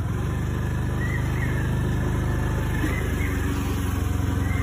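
A scooter engine at a village Dhabaleswar puja in Kapaliroad runs at a steady, loud idle throughout, a continuous low rumble with no pauses.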